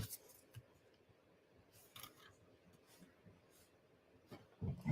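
Scissors snip through a paper card in short, light, close cuts scattered across a quiet stretch, with a sharper handling rustle near the end.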